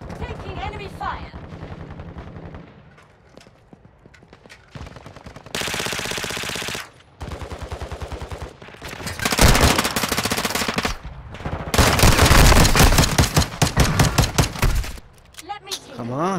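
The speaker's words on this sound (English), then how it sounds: "Taking enemy fire." Loud automatic rifle fire in a Call of Duty match, several long rattling bursts and scattered shots at close range, with a player talking in between.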